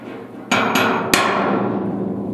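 A hammer strikes a chisel to knock down a dent in a car cab's sheet-metal body: three sharp metallic blows, two close together then one more, each ringing on loudly in a workshop.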